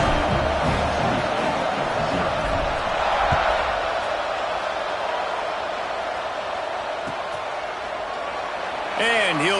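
A football stadium crowd roars steadily after a touchdown and extra point ahead of the kickoff, a dense distant wash of cheering that lasts throughout under a commentator's voice.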